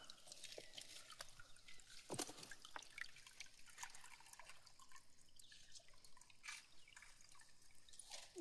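Water from a hill stream trickles through a small improvised spout on a high hillside, a faint steady dribble with scattered drips amid outdoor background noise, heard on its own.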